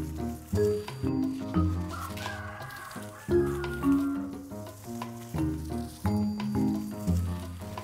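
Backyard chickens cluck in a busy, close chorus of repeated short calls, with what sounds like a rooster's longer crowing mixed in, in a home garden setting.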